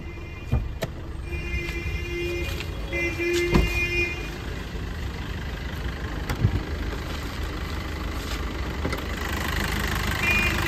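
A 2018 Maruti Vitara Brezza VDI diesel engine idles with a steady low rumble and faint ticking, with no talk over it.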